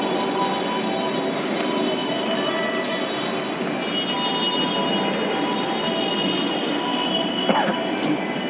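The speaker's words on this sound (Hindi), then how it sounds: "हम लोग मेट्रो से डायरेक्ट लेखराज मार्केट के लिए मेट्रो लेंगे।" A Lucknow metro train runs through the station, a steady loud rumble of wheels with faint high squeals and a brief clatter near the end, heard without talk.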